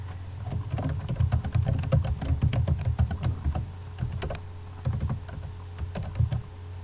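Rapid bursts of computer keyboard typing as a definition goes into a comment box, clicky keystrokes in quick runs with short pauses, close and clear.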